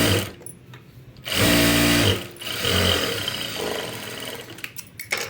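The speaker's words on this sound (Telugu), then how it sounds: "ఇలా ఓపెన్ చేసుకుని టాప్ స్టిచ్ వేసుకోండి" A sewing machine top-stitches the front panel of a katori blouse, running in short whirring bursts of about a second each, close and loud, with soft handling noises between the runs.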